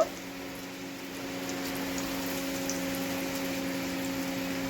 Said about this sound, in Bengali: এটাকে ভেজে নেওয়া যাক তেল ভালোই গরম হয়ে গেছে